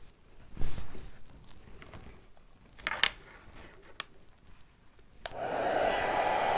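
A hair dryer switches on near the end and runs steadily and loudly after a stretch of quieter room noise with a few soft knocks and taps.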